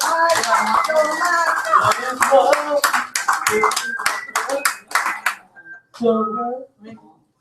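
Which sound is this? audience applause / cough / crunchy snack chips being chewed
audience applause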